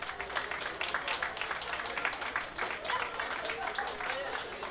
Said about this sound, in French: On les applaudit encore,